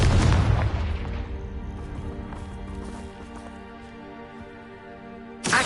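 Confringo explosive spell in Hogwarts Legacy, a loud booming blast that rings out and decays slowly with a lingering tonal hum, followed by a sharp new burst at the end.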